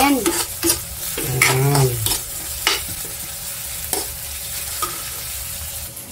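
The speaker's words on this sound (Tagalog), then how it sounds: "Igigisa na rin natin to." Chopped onions sautéing in a pan for relyenong bangus, a loud close sizzle with scraping stirs of a utensil against the pan, and a brief spoken word near the start.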